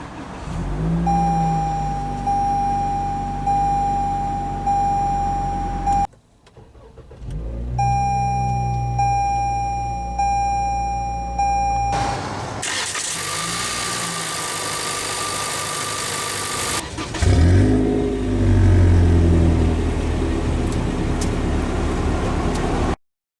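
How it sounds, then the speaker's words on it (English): A 2021 Toyota Corolla XSE Apex with push-button ignition fires up: chimes and a tone sound, a brief pause, then the engine cranks and catches into a steady idle with some revving, close and continuous, no talk. "let's go ahead and start the engine. And it does have push-button ignition."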